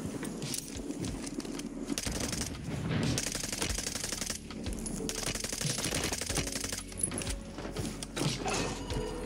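Rapid video-game weapon fire, quick rattling shots in bursts against a quieter backdrop of game sounds.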